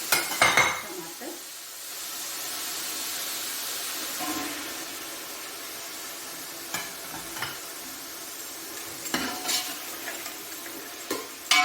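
Tomatoes tip into a pan of beef pulao, a clattering drop followed by a steady close sizzle, with occasional spoon scrapes and knocks against the pan.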